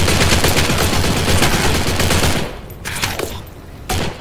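Sustained automatic AK rifle fire in the video game Postal 4, loud and continuous for over two seconds, then breaking into a few shorter bursts.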